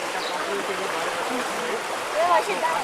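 Floodwater runs through a residential colony in Warangal after heavy rains, a steady rushing wash of moderate loudness that swells slightly near the end, with a brief voice faintly audible.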